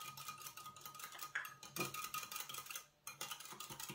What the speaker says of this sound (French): On va mélanger avec le sucre vanillé, avec les 2 sachets